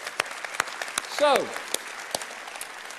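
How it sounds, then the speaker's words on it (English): A church congregation claps briefly: a few scattered, separate hand claps over a quiet room, with a short spoken word and a brief voiced sound in the middle. "Yeah, we can clap. It's okay to clap at that."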